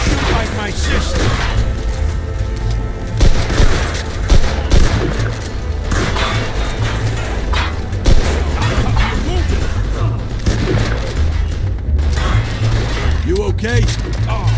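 Gunfire rattles through a Mafia II shootout, a dense run of pistol and machine-gun bursts with heavy booms over loud, busy game noise, while characters shout and talk throughout.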